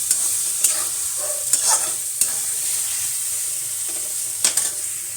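Saag frying with browned onion and garlic in a pan, a soft steady sizzle broken by several sharp scraping stirs of a spoon, close and alone.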